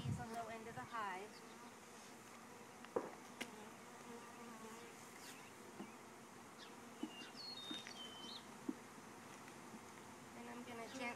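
Honey bees buzz faintly around a hive while a package of bees is installed outdoors, a soft steady hum with occasional louder passes near the microphone and a few distant bird chirps.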